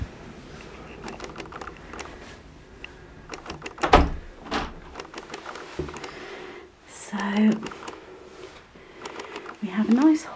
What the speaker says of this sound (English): So we're going through the front door.